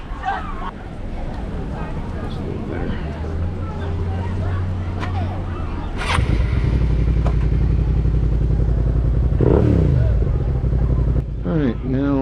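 Motorcycle being ridden, its engine rising and falling beneath wind noise, with a voice talking over it and changes in the engine note later on.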